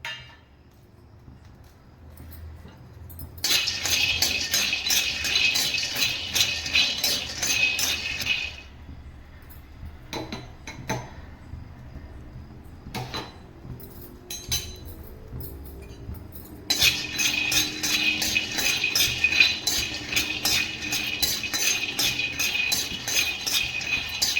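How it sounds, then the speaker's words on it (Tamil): Raw peanuts being dry-roasted and stirred in a pan for peanut powder, giving bursts of rattling, clinking scrapes of nuts against metal that come and go in long stretches with quieter gaps between. "வேணுங்க எடுத்த வேர்க்கடலையை வறுத்துக்கலாம்"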